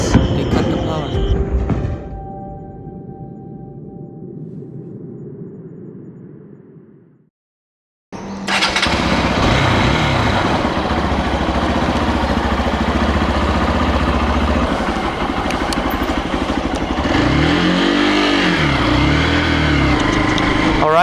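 A motorcycle engine runs loud and close on a trip toward Leh Ladakh in India, a steady droning rumble that follows a quieter stretch of muffled hum and a brief drop to silence.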